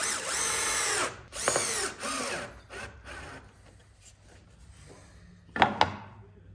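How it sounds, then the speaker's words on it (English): A power drill drives a screw through a wooden block into a batten, with several whirring bursts that rise in pitch, then a pause and a final short burst, heard up close. "I can just screw this block over the batten like so."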